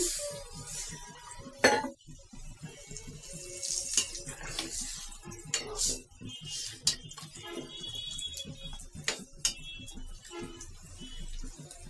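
Water is poured from a tap or vessel into a cooking pot of braised flat beans, giving an irregular splashing and clinking of pot and utensils at close range, with no talk.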